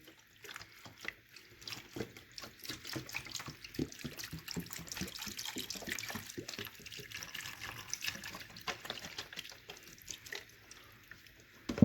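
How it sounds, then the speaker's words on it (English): Beef broth pours steadily into a pan, a continuous close splashing and trickling of liquid that runs for the whole stretch with no talking. "you're gonna fill this pan with beef broth"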